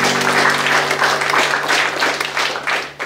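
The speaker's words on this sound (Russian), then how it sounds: "Решите аплодисменты Александру Карпенко." Sustained audience applause at a poetry reading for Alexander Karpenko, a thick wash of clapping that swells and fades slightly, with a steady hum underneath.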